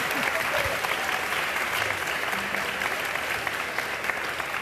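A television studio audience on a Catalan talk show breaks into continuous, lively applause, a dense wash of clapping with a few louder individual claps and brief faint voices underneath.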